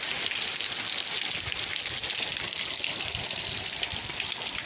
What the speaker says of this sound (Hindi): ये देखो बहुत ज़ोर शोर से बारिश हो रही है यहाँ